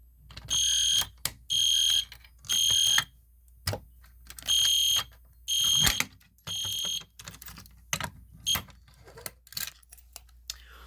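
An EST Genesis fire alarm sounding during a system test, with loud repeated electronic tone bursts in an uneven pattern, broken by clicks, knocks and key jangling between bursts.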